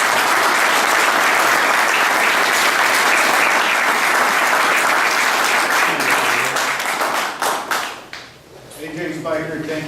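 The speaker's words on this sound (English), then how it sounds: "Please give our governor a nice round of applause" A crowd at a Republican headquarters fundraiser in Iowa gives the governor a long, dense round of applause, loud and steady, that thins out near the end as a voice begins speaking.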